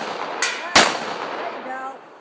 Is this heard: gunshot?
yes